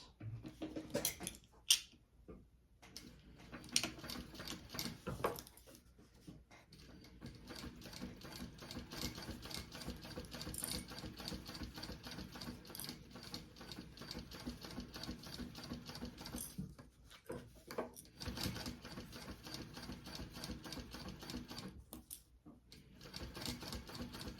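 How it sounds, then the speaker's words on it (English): A sewing machine top stitches a bag with sandstone-colored thread, its rapid needle clatter running in long steady bursts with short pauses between, fairly quiet and alone. "let's top stitch that"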